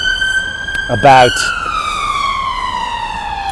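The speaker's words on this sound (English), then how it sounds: "as an ambulance goes by" An ambulance siren passes along the riverside in Norwich, a steady wailing tone that drifts slowly lower in pitch as it goes by, with a brief spoken word over it.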